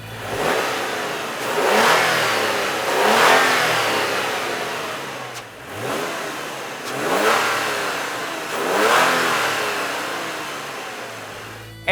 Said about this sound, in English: this is what the stock intake sounds like